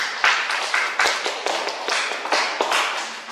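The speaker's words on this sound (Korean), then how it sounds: "박수 한번 더 치세요" Lecture audience at a history academy clapping together, a brisk run of sharp, evenly spaced claps that carries steadily through the whole stretch at close range.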